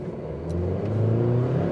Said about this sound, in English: We're just going to floor it.